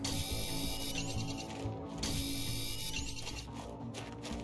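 Working drills in Planet Crafter churn with a dense, rattling mechanical grind and rhythmic ratcheting pulses, loud and continuous and close by, with no voices.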